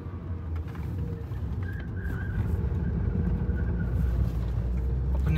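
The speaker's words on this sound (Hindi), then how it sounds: "देखो शोर आपका 5000 rpm सुनने को मिलता आपको" A Honda Civic engine revving near 5000 rpm on an expressway, a steady, loud in-cabin drone with road roar building slightly over a few seconds, no talking.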